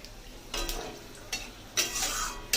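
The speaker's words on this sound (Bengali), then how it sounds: "ফোড়নটাকে একটু ভালো করে ভেজে নিতে হবে" Dried red chillies, cumin and panch phoron crackle as they fry in hot oil close by. A few bursts of stirring and sizzling flare over a low hiss. No one speaks.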